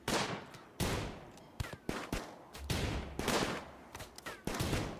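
Gunfire from a raid in the video game RimWorld, made up of dense overlapping bursts of shots, some sharp and some rumbling, running steadily through the whole stretch at moderate loudness with no talk over it.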